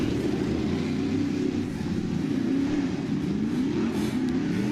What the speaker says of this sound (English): As heat race number 2 rolls out onto the Speedway